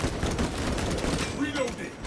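Steady, dense gunfire from a new weapon in the Space Marine video game fills the stretch without pause, with a voice speaking over the shooting.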